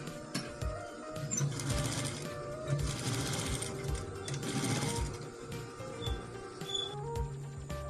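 A sewing machine stitches the hand cap of a guard uniform, giving a rapid, close, rhythmic mechanical chatter that runs in steady bursts with brief pauses.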